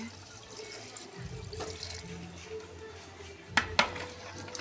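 Water is poured into a large pot of braised beef curry (about 5 kg of beef) being cooked for a wedding feast: a steady splashing pour, then sharp clanks of a metal utensil against the pot.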